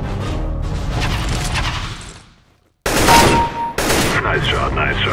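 Rapid gunfire from Counter-Strike: Global Offensive rattles in loud dense bursts, breaks off into a brief silence, then returns in two more sharp volleys layered with metallic mechanical clatter.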